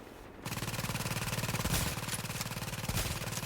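An automated turret in the video game The Division fires a sustained rapid burst at an enemy, a loud, even stream of shots that kicks in after a short quiet lead-in and keeps hammering to the end.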